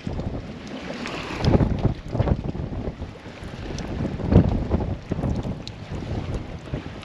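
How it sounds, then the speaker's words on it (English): Wind gusting across the microphone aboard a Leopard 45 catamaran sailing solo in open water between the Bahamas and Puerto Rico, a steady roar with louder gusts swelling and fading throughout, no voices. "Wind is up again."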